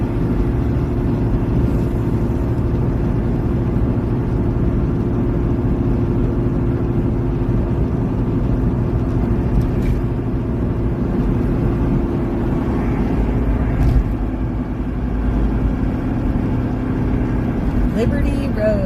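Steady highway road and engine drone from inside a car cruising on the 695 beltway toward DC, continuous and fairly loud throughout with little variation and no speech.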